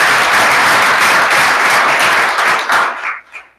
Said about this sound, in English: but a round of applause in his absence.